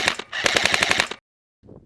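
A KWA Ronin T10 airsoft electric gun fires at a stand in loud, rapid full-auto bursts. A short burst comes first, then a longer one of about a dozen sharp, rhythmic shots, silence, and a brief third burst.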